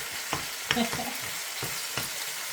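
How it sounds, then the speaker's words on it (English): Thin-cut beef ribs with ginger sizzle steadily in a pan, a close, constant frying hiss broken by a few light pokes and scrapes as the meat is turned. "I just want them to fry on both sides"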